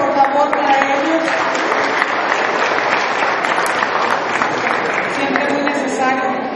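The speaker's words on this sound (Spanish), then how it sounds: "El aplauso, por favor," A crowd at a civic closing ceremony claps for gift recipients, steady applause from many hands running throughout with a voice and amplified tones audible above it.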